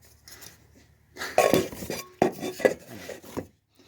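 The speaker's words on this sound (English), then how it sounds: "Oil can!" A metal oil can being handled in a garage while working on a 1966 Dodge Dart GT barn find, with clinking, knocking metallic contacts and rattles close by, no speech.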